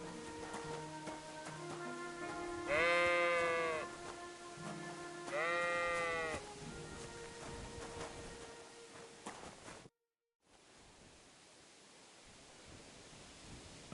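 Sheep in the medieval video game Kingdom Come: Deliverance bleat twice in quick succession, clear and fairly close, over a soft layered ambient bed with faint tonal music, followed by a brief dropout and quieter rustling noise.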